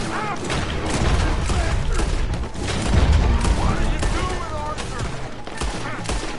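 Gunfire in Red Dead Redemption 2, a dense fusillade of rapid overlapping shots and booms in the middle of a game firefight, with excited voices talking over it.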